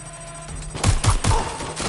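Gunshots in a video game, a quick volley of three or four loud, punchy shots close together with a softer shot at the end.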